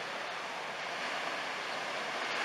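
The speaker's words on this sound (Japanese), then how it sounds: "ついに堤防乗り越えて津波の第2波が来ました。" Tsunami floodwater in Japan surges over a seawall as its second wave, a steady, loud, broadband roar of rushing water with no talk.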